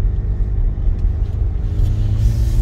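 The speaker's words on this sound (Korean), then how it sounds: "우리가 콘크리트 도로를 한번 주행을 해 보겠습니다" A car driving on a concrete road, heard from inside as a loud, steady low rumble of road and engine with faint clicks above it, continuous and without speech.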